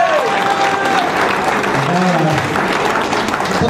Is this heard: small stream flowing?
no